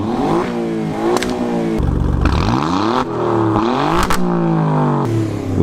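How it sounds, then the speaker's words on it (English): An Alfa Romeo Giulia Quadrifoglio engine blips through several loud, close revs with the exhaust flaps open. The pitch rises and falls repeatedly for about six seconds, and no one speaks. "if I give it a little rev, it will remind you how good it sounds"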